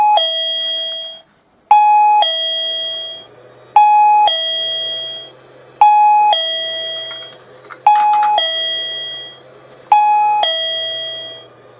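A pond float switch alarm rings out a doorbell-style two-tone chime, loud and close, repeating six times at steady two-second intervals with a quiet hum between rings.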